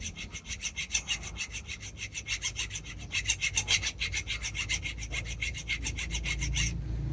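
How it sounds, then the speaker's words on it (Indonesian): A triangular saw file rasps back and forth along the blade of bonsai pliers, a close, bright scraping in a quick steady rhythm of repeated strokes that speeds up toward the end, with no talk. "Kita di sini dapat menggunakan kikir gergaji, kikir segitiga."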